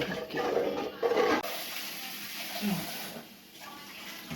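Water pours and splashes into a pot for cooking rice, a steady rushing stream that softens and fades partway through.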